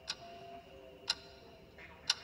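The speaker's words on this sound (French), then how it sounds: "Et revoilà le petit bruit d'horloge" A clock ticks in an animated cartoon, three sharp, evenly spaced ticks about a second apart over a quiet, steady background tone, with no talking.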